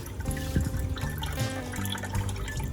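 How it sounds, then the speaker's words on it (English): Water running and dripping as raw chicken is rinsed and drained in a home kitchen, a steady splashing trickle heard up close with no talking. "Now just wash the chicken, drain out any excess water"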